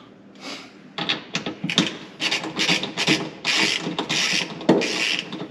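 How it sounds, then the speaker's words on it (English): A ratchet wrench tightening bolts on a UTV flip-up seat base bracket, with rapid clicking pawl bursts in quick repeated strokes, close and loud, and no talking. "Then I'll go ahead and tighten this bolt down here."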